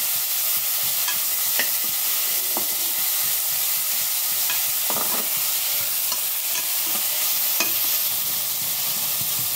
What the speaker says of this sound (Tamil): அரைச்சி இருக்கிற வெங்காயம் கருவேப்பிலை போட்டு கொஞ்சம் ஃப்ரை ஆகிட்டு